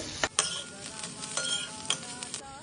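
Onion and soya chunks sizzle and hiss as they are stirred in a hot pan, with scraping clicks of the spoon standing out over a steady frying crackle, close and moderately loud.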